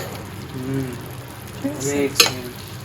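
Food for iftar fries and is stirred in a pan in a home kitchen, a soft steady sizzle with occasional scraping stirs and a brief sharp clink, while a voice talks over it.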